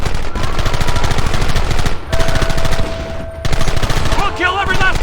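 A shootout in the video game Red Dead Redemption brings rapid, dense gunfire from many guns at close range. Loud cracking volleys repeat almost continuously, with brief lulls and overlapping voices shouting.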